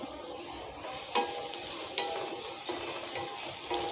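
Sliced onions fry with a little salt in a pan for Kerala-style mutton gravy, giving a steady close sizzle broken by a few soft clicks and scrapes of stirring.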